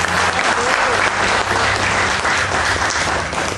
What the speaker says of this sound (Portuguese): Vamos aplaudir então essa célula nota 10?